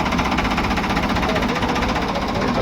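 A tractor engine runs close by with a rough, rapid knocking pulse. The chugging beat stays steady and loud over the whole stretch, with no voices.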